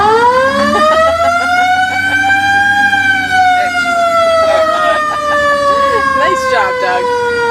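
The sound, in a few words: police car siren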